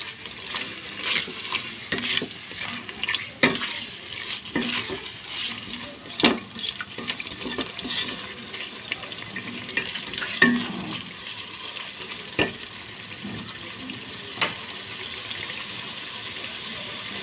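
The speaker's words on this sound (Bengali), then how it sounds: "এখন আমি আবার নাড়াচাড়া করে উল্টিয়ে পাল্টে মশলার সাথে মাছটা আমি মিশিয়ে নিচ্ছি।" Fish being turned and stirred into fried masala in a cooking pot for a Bangladeshi bhaim (eel) bhuna, with soft scraping, gentle sizzling and wet clatter recurring irregularly at moderate, close volume, no talk.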